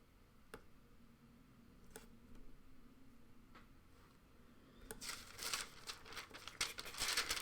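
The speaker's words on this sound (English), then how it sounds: "Sound of the paper. That's a nice sound." Paper is handled and crinkled, a few faint isolated ticks and rustles at first, then a louder run of crackling, crumpling bursts near the end.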